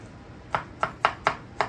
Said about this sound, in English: mince this delicious garlic